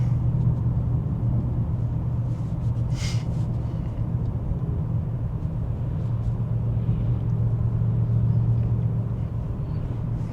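Mercedes-AMG car engine heard from inside while driving, a steady low droning rumble with constant road noise throughout, smooth and unbroken.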